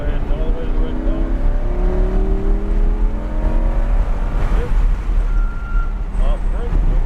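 A Lamborghini accelerates on the race track at Texas Motor Speedway, its engine rising in steady pulls heard from inside the car, loud and continuous beneath an instructor's spoken coaching.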